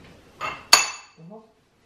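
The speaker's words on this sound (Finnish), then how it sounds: "Meille ei koskaan kuivaa nää tiskit täällä koneessa." Dishes clink and clatter as a home dishwasher is unloaded: a softer knock, then one sharp ringing clink, then a brief muffled rattle, close and fairly loud in an otherwise quiet kitchen.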